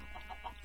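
A chicken in the farming video game Garden of Glass clucks in a few short, soft, closely spaced notes over a faint steady background hum.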